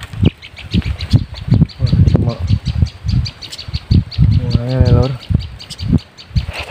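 A sogon bird in a teak forest gives short chirping calls, with a brief harmonic warble among them, heard close over steady rustling and faint background noise.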